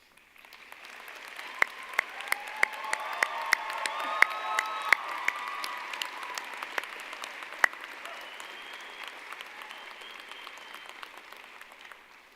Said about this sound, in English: so that these graduates can thank you with a well-deserved round of applause